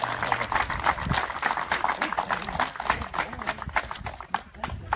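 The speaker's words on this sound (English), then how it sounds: "we have a big round of applause for all of these teams" Audience applause for graduating search dog teams at a handler course graduation ceremony: steady, dense clapping that runs through the full five seconds at moderate volume.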